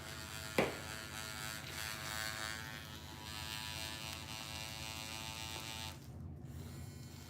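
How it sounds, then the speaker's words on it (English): A new electric toothbrush runs with a steady close buzzing hum throughout, a brief click near the start and a slight shift in tone toward the end. "It's the new toothbrush."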